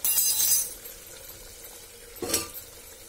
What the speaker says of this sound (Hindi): अब ये मेरे टमाटर भून गए हैं और मैं आलू इसके अंदर डाल रही हूँ